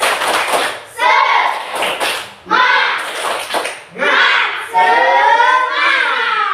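Students on their feet perform the 'tepuk semangat' spirit clap in class, sharp clusters of clapping in a set rhythm mixed with energetic group chanting, close and loud.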